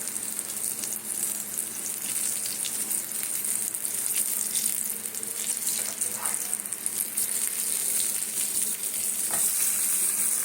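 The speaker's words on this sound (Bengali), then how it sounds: "এইভাবে আমি সবগুলো ভেজে নিই" Moong dal puri frying in hot oil, a steady close sizzle and crackle running throughout with occasional faint clinks, no speech.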